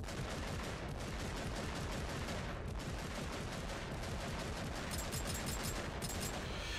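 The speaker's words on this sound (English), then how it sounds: "So I just hold it down and small bursts, just like this." Bolt gun from the Warhammer 40K game Eternal Crusade firing in short bursts, a dense continuous clatter of loud shots filling the whole stretch with no voices.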